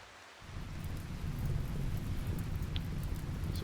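Rain and rolling thunder break out in the Tribal Survival video game, a sudden loud rush that swells in after a short pause and keeps going as a heavy downpour with deep rumbling, and no talking.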